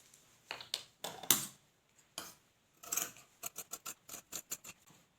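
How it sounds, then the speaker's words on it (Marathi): Scissors cutting blouse fabric directly on the cloth, a series of crisp snips that start sparse and irregular and then settle into a quick, steady run of close, fairly quiet cuts with no talking. "आता आपण कट करून घेऊ."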